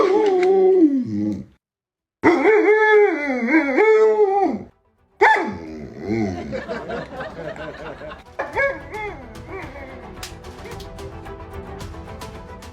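A dog whines and howls in drawn-out, wavering bursts separated by brief silences. Later the sound turns into a busier mix of shorter yelps and clicks.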